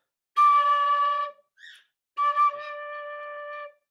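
Tin whistle played with holes 1 to 5 covered and blown gently, giving two clear sustained pure notes separated by a short pause with a brief softer chirp between them, close and alone.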